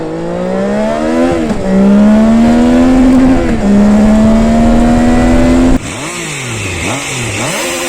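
A Triumph Trident 660 motorcycle's exhaust roars loud and close, holding steady high revs with rising pitch, then after a shift drops into quicker rev swings up and down.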